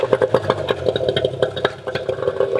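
A two-stroke outboard boat engine runs steadily close by, a busy rattling mid-pitched drone with rapid regular pulsing and clatter, heard alone without speech.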